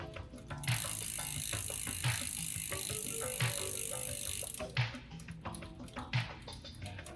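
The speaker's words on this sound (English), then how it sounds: "Through the entire cassette, listening for any chain noise." A mountain bike drivetrain ticks and whirs as the chain shifts through the rear cassette gears, with light rhythmic clicking over a steady hiss and occasional sharper clunks, close up.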